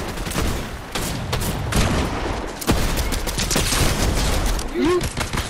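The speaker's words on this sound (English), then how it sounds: "Oh, we're getting shot at." Rapid bursts of gunfire from a Fortnite duos match crackle back and forth, loud and dense for several seconds, while players talk excitedly over the shooting.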